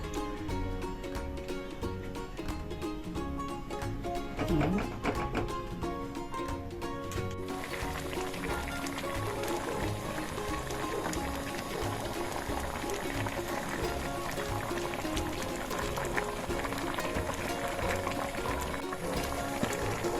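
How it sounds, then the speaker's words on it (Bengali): Moong dal with mixed winter vegetables in a pot bubbles at a steady boil, a continuous liquid churn with a light clink early on, under faint background sounds and no talk. "এবার একটু ফুটে সমস্ত সবজির সঙ্গে ডালটা ভালো করে মিশে গেলে"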